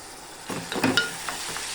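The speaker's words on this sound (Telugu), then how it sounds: "ఇది అల్లం పేస్ట్ అండి, అల్లం పేస్ట్ వేస్తున్నాను." Ginger paste goes into a sizzling masala curry for paneer masala curry, and the frying hiss flares up for a moment before settling back into a steady sizzle.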